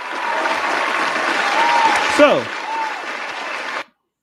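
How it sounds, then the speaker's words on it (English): A studio audience at a live show applauds in a steady wash for several seconds, with a brief voice and a short sliding sound near the end before it cuts off abruptly. "Hey, give him a round of applause."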